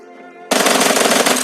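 Automatic gunfire in PUBG Mobile as a shooter hits an enemy, a loud rapid burst that starts abruptly and rattles on steadily without pause.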